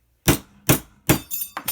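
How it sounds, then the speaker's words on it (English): A piece of metal is struck flat with a hammer in a studio: four sharp, ringing blows spaced under half a second apart, close and loud, the last two coming quicker. "Hammer it flat."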